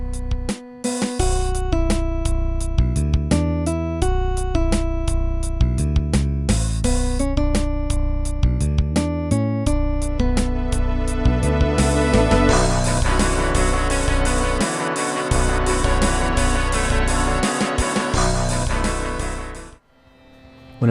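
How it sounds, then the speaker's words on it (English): Guitar and bass playback from Guitar Pro notation software plays a dense, continuous rock passage of rapid, evenly sequenced notes at steady loudness, stopping abruptly just before the end. "The end product of writing in Guitar Pro sounds like this."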